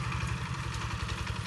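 A power tiller engine runs steadily at close range, its low, rhythmic chugging pulsing evenly throughout with no voices over it.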